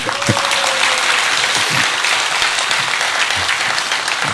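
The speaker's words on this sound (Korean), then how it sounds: "하나님께 영광의 박수를 한번 돌립시다." A church congregation claps together in sustained, dense applause filling the sanctuary, loud and steady throughout with no pauses.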